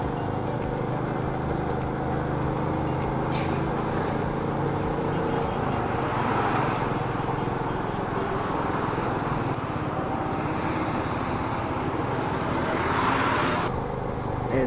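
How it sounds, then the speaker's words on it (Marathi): A traffic jam on the Kasara Ghat mountain road produces a steady, muffled rumble of idling and crawling vehicles that continues without a break, with faint passing swells and no voices. "घाटातल्या राईडची मजा घालवली आहे ट्रॅफिक जॅमने"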